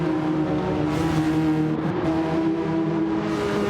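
Race cars roar continuously through a racing video game on the Sardegna Windmills track, engines sustained loud and close with steady high revving tones, no talk.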